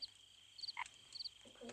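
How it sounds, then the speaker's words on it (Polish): Croaking of a frog in a horror video game: a few short, close croaks in quick succession, with a brief lower grunting call near the end and no talk. "mam żabę w łapach"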